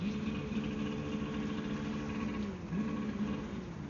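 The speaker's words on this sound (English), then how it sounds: "I think they rev up their boat." A boat engine drones at a steady idle in Miami, Florida, then dips and surges briefly as it revs, a low rumbling hum throughout.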